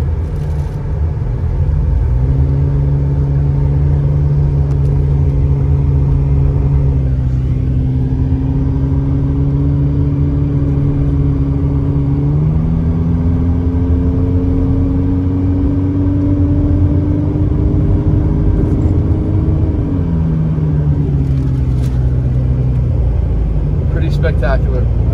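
A car climbs Highway 18 up the backside of a mountain range toward Big Bear, California, its engine droning steadily with rising and falling pitch as it shifts and takes curves, a constant close rumble under continuous speech.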